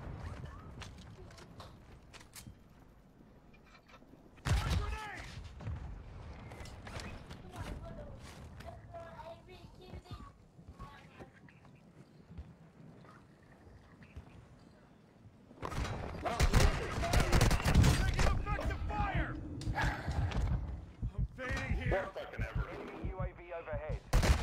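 Gunfire in a shooter video game crackles at a moderate distance, first as scattered shots and then as heavier, denser bursts of rapid fire, with people talking over it at times.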